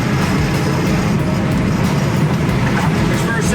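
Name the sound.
1966 Ford Mustang Coupe engine accelerating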